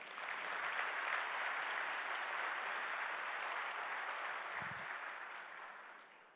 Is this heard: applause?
yes